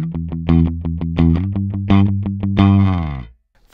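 A Schecter Diamond J Plus jazz bass is picked with downstrokes only, a quick run of evenly spaced notes close up and ending on a ringing held note that fades out.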